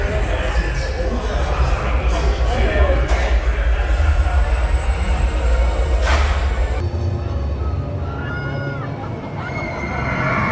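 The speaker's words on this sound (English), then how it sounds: "Flug der Dämonen is up next. This is a B&M wing coaster." A B&M wing coaster train, Flug der Dämonen at Heide Park in Germany, roars past in a steady loud rumble that swells and fades, with crowd murmur mixed in and a sudden drop in level near the end.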